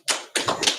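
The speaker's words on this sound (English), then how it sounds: "He loves clapping." A few hands clap in bursts at a small local council candidates' meeting, three quick volleys of applause close by and alone in a quiet room.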